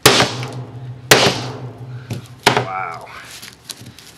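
A big hammer strikes an epoxy-primed test panel four times, sharp loud metallic bangs with short ringing decays spaced about a second apart; a voice talks briefly between blows.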